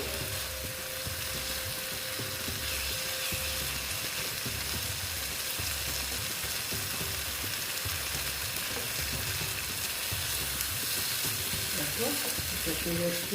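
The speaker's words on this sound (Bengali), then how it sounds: "মশলার সঙ্গে মিশিয়ে নিচ্ছি কষিয়ে নিলে খেতে ভালো লাগে" Eggplant (begun) sizzles steadily in a pan as it is stirred and cooked down with spices, a continuous frying hiss with soft scraping throughout and a brief spoken word near the start.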